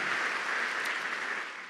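Church audience applauding in thanks for volunteers who serve, a fairly faint, even wash of many clapping hands that tapers off near the end, with no voices.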